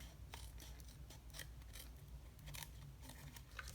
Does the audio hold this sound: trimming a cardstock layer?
yes